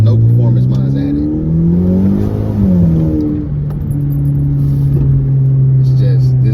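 Kia Optima with no performance mods accelerating hard at full throttle, a loud, close engine note whose pitch climbs through the gears, with a brief dip at a shift midway, while people talk over it.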